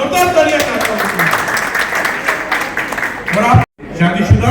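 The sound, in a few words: loud applause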